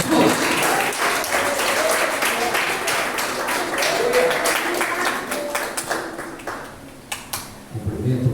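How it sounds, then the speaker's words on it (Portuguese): A congregation at a church service breaks into steady, dense applause that fills the room, thinning out into scattered individual claps toward the end, with voices mixed in. "Então vamos receber com as palmas, bem alegre para Jesus."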